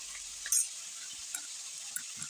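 Salted fish roe fries in a pan with a steady soft sizzle and a few light stirring clicks and taps.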